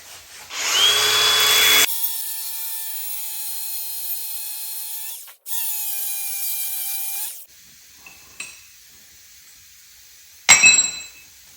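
Tractor tire chain links being bolted together with a power driver: two sustained whirring runs close by, separated by a short pause, followed by a few sharp metallic clinks and rattles of the chain.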